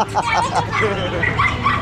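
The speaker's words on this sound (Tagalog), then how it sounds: "Natakot doon sa tahol ng bigil eh." A large dog barks and yips at a pet market at Grotto, its bursts mixed into a noisy crowd with people talking close by.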